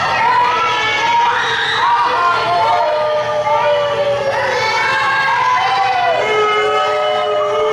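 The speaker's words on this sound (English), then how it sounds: "Just keep booing him." Loud, continuous crowd noise at an outdoor championship parade, a dense mass of voices jeering and shouting throughout, with whistles and scattered yells rising above the steady roar.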